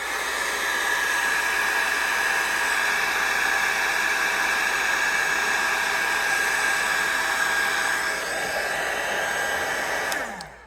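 Heat gun blowing a steady, loud rush of hot air over embossing powder on a pumpkin, continuous for about ten seconds before cutting off with a brief falling whine.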